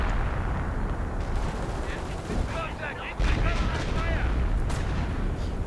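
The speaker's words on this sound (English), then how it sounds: "And a strafing run, there we go, pinning down several." An aircraft strafing run rakes the ground in a strategy game, with rapid gunfire and rumbling impacts building up and rolling on continuously, partly under a caster's commentary.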